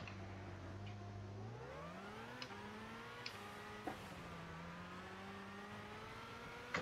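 A Volvo 240 GLT engine in Gran Turismo 6 revs under throttle, its pitch climbing steadily through the gears with brief shift breaks and small clicks, faint and distant overall.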